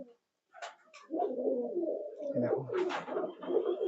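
A breeding pair of high-flying pigeons in a loft coos in close, soft throaty bursts, starting with brief calls and then running into a longer rolling warble.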